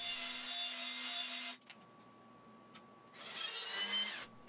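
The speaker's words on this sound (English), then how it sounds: "The dowels get trimmed down to their final length at the miter saw" A miter saw trims wooden dowels to final length for an adjustable drying rack: two loud, bright bursts of cutting, each about a second and a half, separated by a quieter gap with a steady motor whine.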